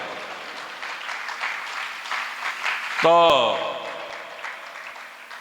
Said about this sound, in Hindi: और बहुत लग रहा तो और जोर से ताली बजाओ